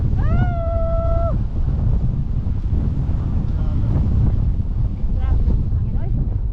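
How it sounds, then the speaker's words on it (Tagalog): Strong wind buffets the microphone in a loud, continuous low roar that fills the whole clip, outdoors on a cold mountain road; a brief high whistling tone rises early on, with scattered faint voices. "Grabe ang hangin, oy."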